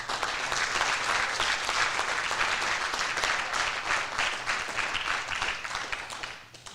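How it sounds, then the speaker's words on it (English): An audience at a school fall sports awards ceremony gives a round of applause for coaches and athletes, dense steady clapping that tapers off toward the end, with no speech over it. "give all these people a big round of applause"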